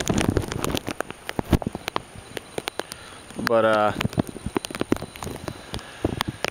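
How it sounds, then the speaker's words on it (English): Steady rain at night during Hurricane Isaac in southern Alabama, a constant hiss of drops on surfaces, punctuated by close irregular taps and knocks, with a brief patch of speech partway through. "it's raining pretty consistent"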